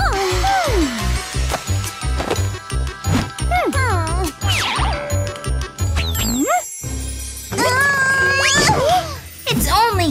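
A cat meows repeatedly in a children's story, bending high and low in pitch between tinkling jingle sounds and bright music, loud and close throughout.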